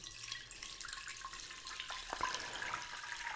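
Water trickling and splashing into a floral table centrepiece container, a soft continuous pour with small drips, fairly quiet and close.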